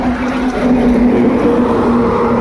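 A motorcycle engine idles in neutral while the bike rests on its stand, giving a steady, close, loud droning hum with no change in pitch across the short stretch.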